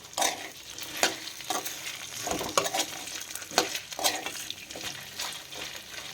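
Elephant apple pieces for a pickle fry in a pan with steady close sizzling, punctuated by repeated scraping and clinking stirs of a utensil against the pan.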